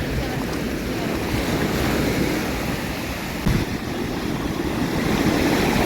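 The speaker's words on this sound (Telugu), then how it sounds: "ఎంత పెద్ద అలలు వస్తున్నాయో చూడండి అసలు." Large ocean waves break on a beach in a continuous, loud roaring wash, with heavy wind buffeting the microphone throughout and no voices.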